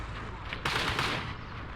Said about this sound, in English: We have some light arms fire going off.